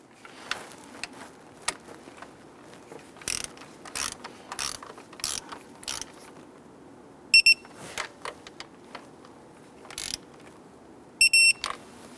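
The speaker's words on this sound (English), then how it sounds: "Now we're going to go ahead and torque this." A torque wrench tightens a bolt on a Jeep Grand Cherokee while replacing the coolant crossover pipe, giving sharp metallic ratchet clicks in irregular bursts, close and clear against a quiet background.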